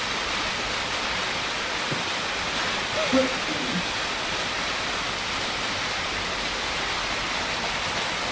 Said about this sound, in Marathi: पाऊस पण येत आहे